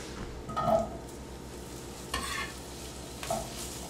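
Chopped meat cubes sizzle in a pan over medium heat, a faint steady frying hiss broken by a few brief louder bursts of sizzle and scraping as the pieces are stirred.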